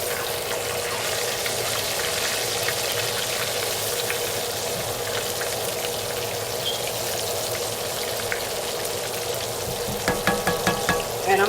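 Southern-style catfish nuggets and whiting fillets fry in hot oil with a constant crackling sizzle, close and loud, broken by a few brief pops and splatters near the end.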